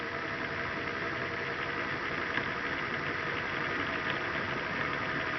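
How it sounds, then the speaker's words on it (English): A Bedini SSG motor gathering speed as its timing coil is advanced, giving a steady mechanical whir and hum with a constant buzzing hiss, close and continuous throughout. "the motor speeds up"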